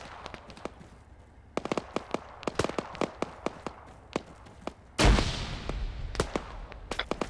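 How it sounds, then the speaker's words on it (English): A thrown grenade goes off in a sudden loud broadband blast midway through, following a string of sharp impulsive pops and cracks of gunfire and explosions that continue after the blast, with no talk. "I'm throwing a grenade."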